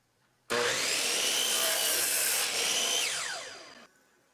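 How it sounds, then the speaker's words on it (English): A power saw cross-cuts a wooden piece for a farmhouse apron-front base cabinet: one loud, continuous cut of about three seconds, a bright rasping whine that spins down at the end, with no talking. "So here I'm cross-cutting the piece to width."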